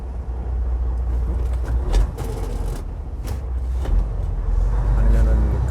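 Friday-evening road traffic near Middletown, New York, rumbles nearby, heard by a truck driver, with cars passing and engine noise swelling and fading in a continuous low roar.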